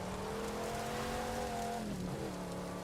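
A Shelby GT500 in the racing game The Crew 2 drives with a steady engine drone, its pitch holding then dropping briefly as it shifts, loud and continuous without talk.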